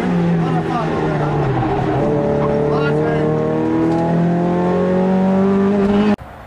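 A rally car engine on a sprint stage with a rebuilt gearbox screams loudly and continuously, its pitch climbing and dropping through rapid successive gear changes close by, then cutting off abruptly at the end.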